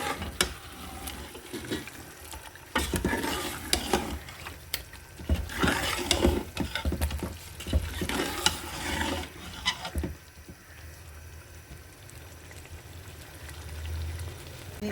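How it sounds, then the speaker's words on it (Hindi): Goat trotters roasting in a pot give a close, uneven run of scraping stir strokes and clatter over a low sizzle, with quieter stretches between bursts and no voices. "पाए डाल के भून लेते हैं। 5 से 10 मिनट तक पाए भूनते रहे।"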